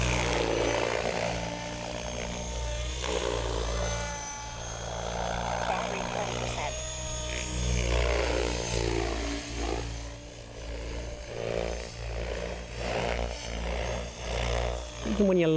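A SAB Raw Piuma RC helicopter on a 6S battery flies steadily, its rotor hum and motor whine rising and falling as it maneuvers, while someone talks over it.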